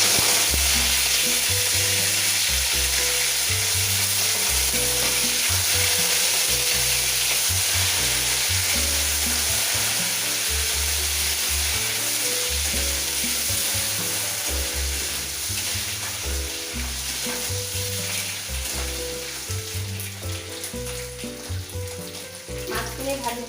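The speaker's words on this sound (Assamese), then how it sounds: "তেলখিনি গৰম হ'ল, এতিয়া মাছখিনি ঢালি দিওঁ।" Fish slid into hot oil in a pan for an Assamese dish sizzles and crackles loudly and continuously, the frying easing slightly toward the end with occasional stirring clatter; no voices heard.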